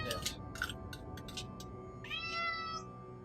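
Several cats meow in quick, close succession, short repeated cries followed by a longer drawn-out meow, over quiet background game music.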